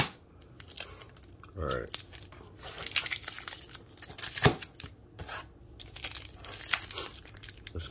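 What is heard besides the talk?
cutting and tearing open trading card packs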